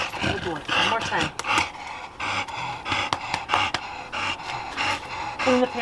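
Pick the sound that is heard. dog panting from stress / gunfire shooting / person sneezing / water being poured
dog panting from stress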